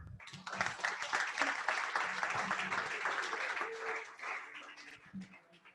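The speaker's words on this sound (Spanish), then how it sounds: "Recibamos con un fuerte aplauso a Julián Lamprea." An audience at a Node developer event in Medellín claps to welcome a speaker, a busy spread of applause that fades toward the end while a voice talks over it.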